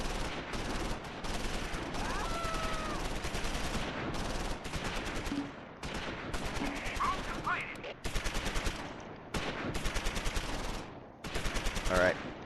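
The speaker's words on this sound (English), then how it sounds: "Open up with the machine gun, maybe?" Machine gun fire in the World War II strategy game Close Combat IV, with repeated bursts of rapid gunshots and a dense crackle of battle noise, plus faint game sound effects layered over the fire.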